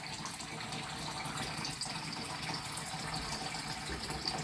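Tap water running steadily while lemons are rinsed, a faint even rushing stream with slight splashing texture, continuous and unbroken, with no talk.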